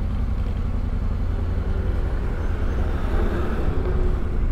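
A motorcycle on a world tour rides along a street in South Africa, giving a continuous low engine rumble mixed with wind and road noise, close and steady with no speech.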